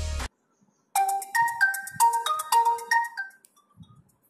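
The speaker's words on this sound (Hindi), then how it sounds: "मैं आपको सेटिंग में जाके इसके रिंगटोन दिखा देता हूँ" An OPPO A1K smartphone plays a bright, melodic ringtone of clear chiming notes stepping up and down for about three seconds, loud and alone, fading to quiet at the end.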